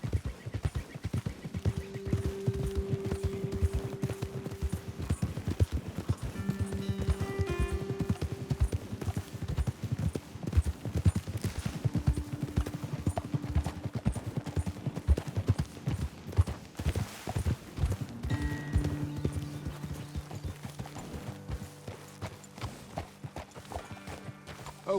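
Horse hooves clip-clop in a fast, steady galloping rhythm throughout the Red Dead Redemption 2 game world, with occasional snorts and tonal game sounds layered over the continuous pounding.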